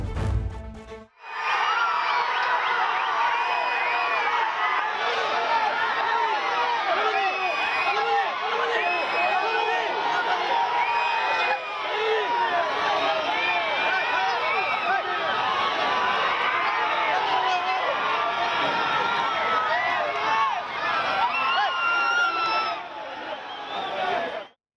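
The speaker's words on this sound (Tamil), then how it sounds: "முதலமைச்சர் விஜயை பார்த்ததும் பொதுமக்கள் கரகோஷம் எழுப்பி ஆரவாரம் செய்தனர்" A dense street crowd roars and claps as the chief minister passes and waves, a steady wash of cheering, whoops and babble that stays loud and close for nearly the whole stretch.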